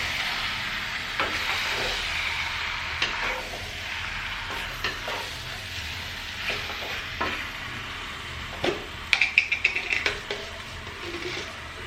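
Buffalo heart and kidney are stirred in a hot pan, a continuous close sizzle with scraping spoon strokes and a burst of sharp clatters near the end.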